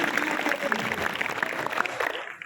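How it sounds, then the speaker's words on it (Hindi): An audience at a spiritual talk on exam study breaks into brief, dense clapping that tapers off within a couple of seconds, with some voices faintly mixed in. "ताली बजाओ यार"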